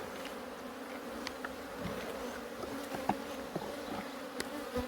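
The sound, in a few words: bees buzzing during a beehive inspection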